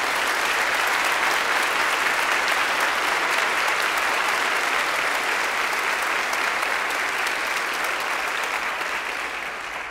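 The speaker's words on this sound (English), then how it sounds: "Would you give all my straight folks in this congregation a round of applause this morning?" A church congregation at a morning service breaks into loud, sustained applause, dense clapping from many hands that holds steady for about ten seconds before easing slightly at the end.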